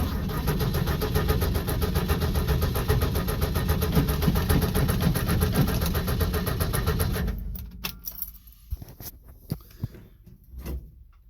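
A 1965 Ford F100 truck engine cranks and runs loudly and roughly for several seconds, then cuts out, leaving scattered clanks and quiet shop noise.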